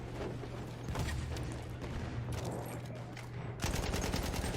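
Gunfire in the Battlefield video game on the Sinai Desert Conquest map, heard as rapid bursts of automatic fire that run under a steady background and then grow louder and denser near the end.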